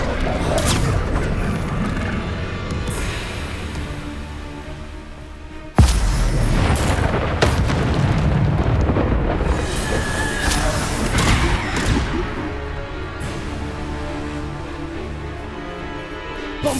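Bombarda blasting spells going off in Hogwarts Legacy: a loud, rumbling explosive roar with a sharp heavy impact midway, followed by crashing debris and lingering low booms, repeated bursts continuing to the end.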